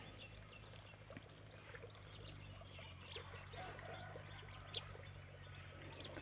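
Water trickles and flows steadily outdoors, a soft continuous gurgle with occasional bird calls in the background.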